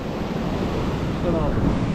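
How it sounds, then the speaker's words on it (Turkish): High sea waves break and wash in a steady roar along a shore where lure fishermen cast spinning rods, loud and close, with wind buffeting the microphone throughout. "Önümdeki dalgalar çok yüksek"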